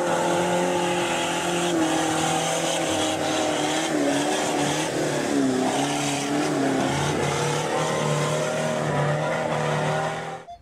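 Engine sound of a Jeep, a continuous droning motor with wavering, revving pitch that holds loud and steady for about ten seconds before cutting off.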